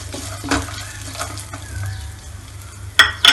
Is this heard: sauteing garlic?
yes